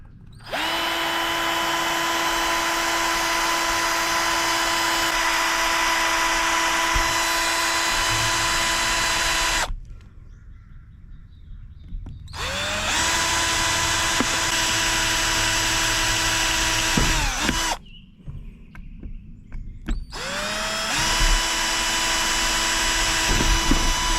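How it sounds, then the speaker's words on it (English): A power drill drilling out metal on a Chevy PCV valve install whines steadily at high speed, stopping twice briefly before spinning up again, close and loud. "we're gonna get these things drilled out and get them clean"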